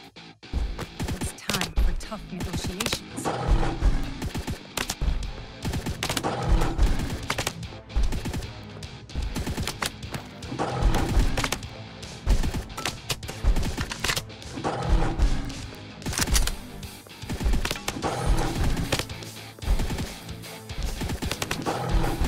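Gunfire in the video game Guns and Draguns, rapid bursts of shots and dense automatic firing that continue throughout, loud and busy, with clattering impacts mixed in and speech at times.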